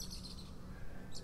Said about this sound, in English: There were our birds.